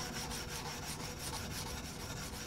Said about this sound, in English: And then sanding like this isn't such a chore.